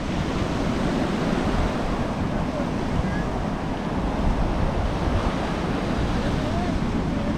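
Steady roar of ocean surf breaking on a beach in Pensacola, Florida, continuous and fairly loud, with wind buffeting the microphone.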